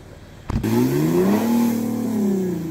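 An Audi quattro car stuck with wheels spinning, its engine revving up loudly after a brief knock, the pitch climbing, holding, then easing slightly, close and without talk.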